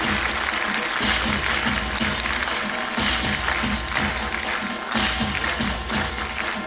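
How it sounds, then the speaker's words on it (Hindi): A crowd claps steadily to welcome a guest onto the stage at a Brahma Kumaris dedication ceremony. The applause is continuous and dense with a slight tapping texture, and it carries throughout without fading. "माननीय विनीता राणे जी स्टेज पर पधार रहे हैं, सब तालियों से जोरदार स्वागत कर रहे हैं।"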